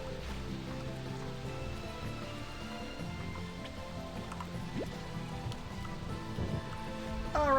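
Rain falls steadily in the Slime Rancher 2 video game, a dense, even hiss of drops and trickling water running throughout with a slight swell at the very end.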